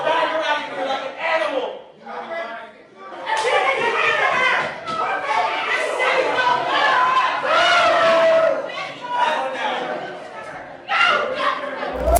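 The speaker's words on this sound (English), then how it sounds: "While shouts of "no justice" are heard from the gallery" Courtroom gallery crowd shouting "no justice" in loud, overlapping voices that rise and fall and continue throughout, with scattered individual yells standing out from the din.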